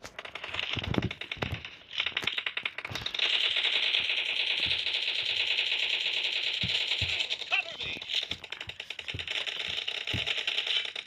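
Video game gunfire from a Jericho pistol comes as quick bursts of sharp, clattering shots, with short pauses between volleys and some clicking in the background.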